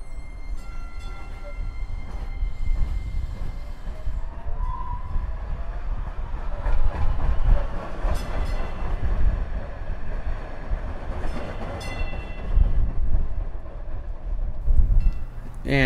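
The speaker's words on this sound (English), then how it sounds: "And with that, our Red Line train comes right around the corner." A DART Red Line light rail train arrives around a corner, with a steady rumble of wheels on rails, squealing and screeching tones, and clanking that builds and fades over a bustling station background.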